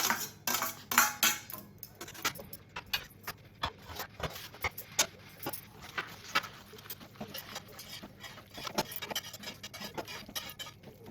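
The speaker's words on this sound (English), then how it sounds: "add the boiled pasta into the sauce and mix it well for about 1 to 2 minutes" Boiled pasta being stirred into white sauce in a pan, giving irregular clinks and scrapes of a utensil against the metal, steady and fairly quiet with no talk.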